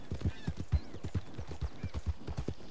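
Horse hooves clip-clopping at a slow walking pace in the Western video game Red Dead Redemption, with steady, close, muffled thuds repeating evenly and a faint whinny-like tone in the background.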